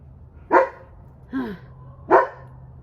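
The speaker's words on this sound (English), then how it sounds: "oh, the dogs always bark" Dogs bark three times at even intervals, sharp and nearby, with the middle bark a bit lower and softer, over a faint steady hum.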